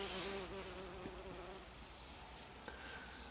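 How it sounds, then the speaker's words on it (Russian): A pollinating insect hovers around a kiwi vine flower, giving a faint, steady buzzing drone that fades slightly over a few seconds against a soft outdoor background. "Опылитель летает, только что видели."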